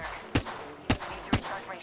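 Three sharp gunshots spaced apart in an Apex Legends firefight, fairly close and punchy over low background game noise.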